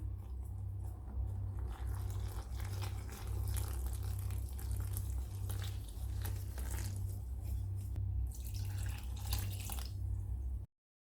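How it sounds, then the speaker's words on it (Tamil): Water added to a wheat flour and dissolved jaggery batter for kuzhi paniyaram, with soft close-up splashing and dripping over a low rhythmic hum that cuts off abruptly at the end. "இப்போ 1 கப் அளவு தண்ணி சேர்த்துருக்கேன்."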